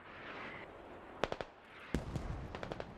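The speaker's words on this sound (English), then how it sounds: "More artillery on point." Distant artillery shells burst in the military shooter Squad, a couple of sharp thudding impacts with short crackling tails over a low ambient rumble, no talking.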